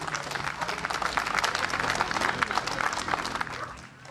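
Audience applause at an outdoor event in Akkrum, a sustained burst of many hands clapping that fades near the end.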